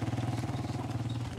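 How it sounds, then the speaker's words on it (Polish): A motorcycle ridden by young men on Zanzibar rumbles close by with a steady pulsing low engine note, loud and continuous for the whole moment. "O, jadą, chłopaki na motorze."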